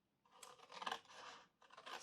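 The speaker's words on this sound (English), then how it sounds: "for quickness today I'll just do with my scissors." Scissors snip and scrape through card being trimmed for a fold-flat box, a few quiet, close cuts in quick succession.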